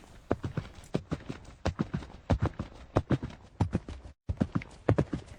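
A horse's hooves clip-clop in a steady trotting rhythm during a dressage test, clear and fairly close, with a brief dropout near the end and no talking over them.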